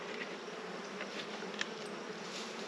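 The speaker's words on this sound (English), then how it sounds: "box of bees below" Honey bees fill a hive box with a steady, even buzzing drone that holds without pause, close and moderately quiet, with no voices over it.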